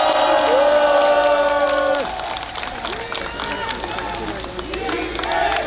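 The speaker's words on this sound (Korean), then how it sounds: "다시 한번 뜨거운 박수 부탁드립니다" Crowd applause and cheering at a Korean political election rally, loud and close, with whoops and shouted voices rising over steady clapping, easing briefly before swelling again.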